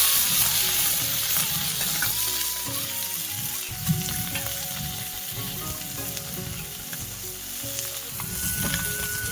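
Masala spices frying and being cooked down in hot oil until the oil separates, a steady close sizzle with intermittent scraping stirs throughout, no voices.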